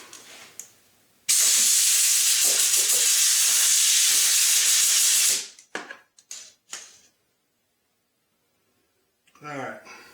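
Compressed air blasts loose debris off a car engine's thread repair area on a Mercedes 560SL, a loud steady hiss lasting about four seconds, then a few short puffs before silence.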